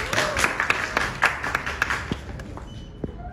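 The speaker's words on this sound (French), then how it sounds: "Applaudissez." Audience clapping at a press conference for an Ivorian singer, a burst of applause that fades and thins toward the end, moderately loud with scattered louder claps.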